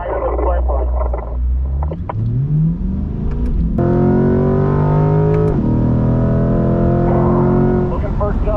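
A Corvette C8 circles the Spring Mountain race track during a high-performance driving school session, its engine note rising and falling in steady revving sweeps, loud and close throughout, with a radio voice or speech over the top.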